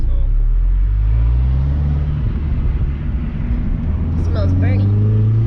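Mini R56 engine with an upgraded turbo, steady low engine rumble with rising turbo whine and a brief whistling flutter near the end, with a voice speaking over it.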